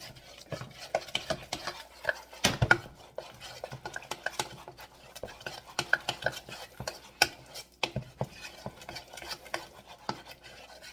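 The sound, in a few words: mixing cayenne pepper into scrambled eggs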